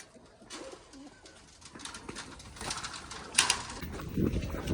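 Pigeons coo softly in short repeated calls, nearby, with light rustling and a brief flutter of movement around them.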